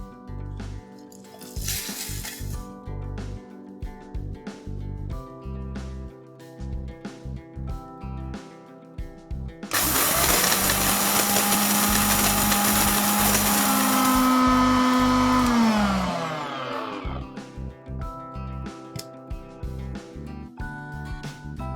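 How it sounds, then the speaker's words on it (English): Electric spice grinder blitzing cooled roasted garam masala spices into fine powder, a loud continuous whine of about eight seconds that rises in pitch as it winds down, with clicks and handling noises before and after. "it's time to grind them to a fine powder"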